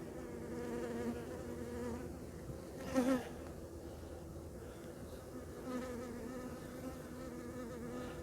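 Honeybees from another hive buzz close around a beekeeper's face, a steady hum that holds throughout, with one brief louder pass near the middle.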